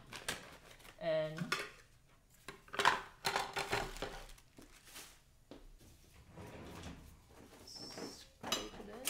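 Metal utensils scrape curry paste into a frying pan, scraping and clattering in irregular bursts, close and fairly quiet, with a few bright clinks.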